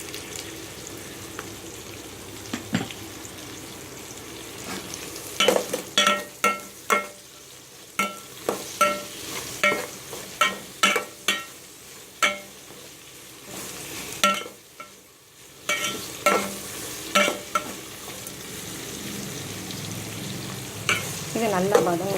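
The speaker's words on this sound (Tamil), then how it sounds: "நம்ம பச்சை மிளகா போடணும். இது ஒரு 2 நிமிஷம் வதங்கினா போதும்." Green chillies with salt sauté in a pan for a Madurai mutton biryani, making a steady sizzle while a utensil scrapes and clacks in regular, repeated stirring strokes.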